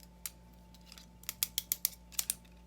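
A series of crisp snips from scissors, a few scattered cuts then a quicker run of clicks, close and fairly quiet.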